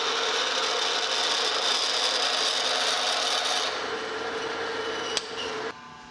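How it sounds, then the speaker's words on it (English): A continuous harsh grinding of a 31/32-inch drill cutting into a cast iron gear blank, steady and loud, easing off near the end with a brief sharp click. "I got a 31/32 drill here, just a little bit undersized."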